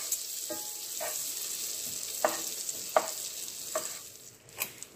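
Butter melting in a nonstick wok, a steady faint sizzling hiss with a few soft spoon taps and scrapes scattered throughout.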